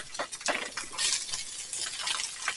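Leftover roast meat goes into a pan for smothered burritos: a utensil scrapes and clinks against the pan again and again, with a faint sizzle underneath.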